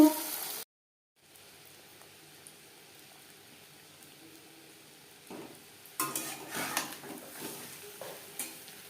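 Egg fritters, a crispy batter of egg and potato made without garlic, onion or spices, frying in hot oil; a faint low sizzle runs steadily, then grows louder and more crackly toward the end as batter is added, with light utensil clatter and no talk.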